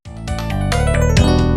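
Harsh, garbled electronic music with buzzy, distorted tones that thicken into a dense, chaotic jumble.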